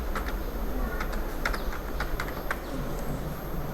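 Computer keyboard keys are pressed in a quick, irregular series of close clicks over a steady low background hum.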